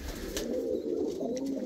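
Pigeons in a dovecote give a low, continuous cooing close by, with a faint clatter of movement and no voices.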